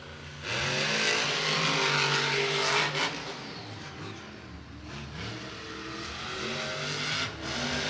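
Monster truck engines revving hard while racing at Monster Jam in Raymond James Stadium, Tampa, a loud roaring surge that dips and then builds again, with crowd and arena noise underneath.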